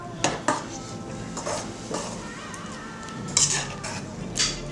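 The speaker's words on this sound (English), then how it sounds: "So I'm going to put those in my eggs here and stir it up a little bit" A utensil stirs beaten eggs with diced green chilies in a bowl for a southwestern egg casserole, with soft scraping swirls and a few sharp clinks of metal against the dish, close and moderately quiet with no speech.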